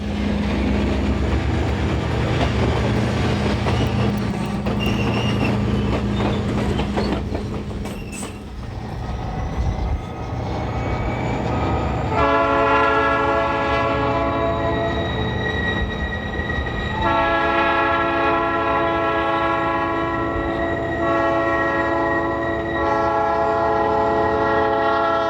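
An Alaska Railroad express passenger train rumbles past loudly and continuously, wheels clattering, with a long sustained horn blaring through the second half.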